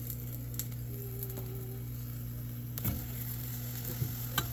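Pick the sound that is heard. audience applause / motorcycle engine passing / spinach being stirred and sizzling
spinach being stirred and sizzling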